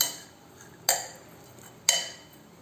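Two sharp clinks of a spoon against a pot while green gram sundal is stirred with sugar and grated coconut, spaced about a second apart over a faint quiet background.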